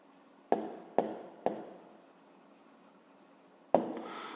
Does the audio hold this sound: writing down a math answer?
yes